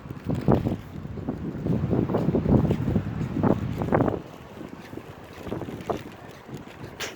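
Gusty wind buffets the microphone in uneven rumbling bursts at Al Mouj Marina in Muscat, Oman, with an open, outdoor waterside feel.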